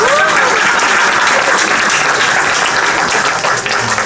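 An audience at a Raamleela performance at Shree Raam Mandir in Wijchen, Netherlands, breaks into loud, dense applause that holds steady for a few seconds before easing slightly at the close.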